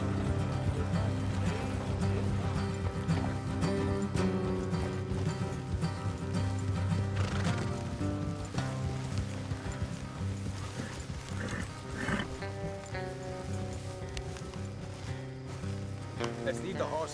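Horse hooves in the Red Dead Redemption 2 video game, a steady stream of hoofbeats set within a dense, continuous mix of music and game sound, with voices talking over it.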